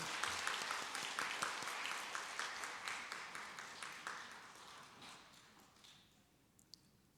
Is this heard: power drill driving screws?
no